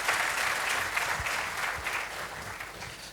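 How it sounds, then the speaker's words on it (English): Ambassadors conference audience clapping for the Foreign Service in a hall, a brief, dense round of applause that gradually fades. "Another round of applause for our Foreign Service."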